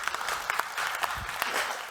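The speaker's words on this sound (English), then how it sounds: "Give them a round of applause." A burst of applause from a small crowd, steady clapping that carries through the whole moment.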